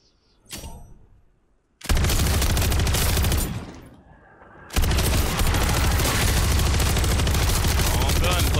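Bursts of rapid automatic gunfire in a zombie shooter game: a short shot, then a long loud roaring burst, a brief lull, and another sustained heavy stream of fire.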